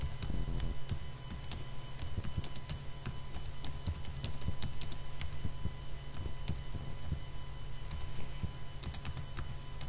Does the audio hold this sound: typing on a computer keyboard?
yes